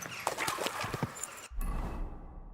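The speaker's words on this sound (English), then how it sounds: "Easy, good horse." A horse in the video game Kingdom Come: Deliverance II clops along at a steady walking pace, hooves close and moderately loud, then stops abruptly and only a low rumble remains.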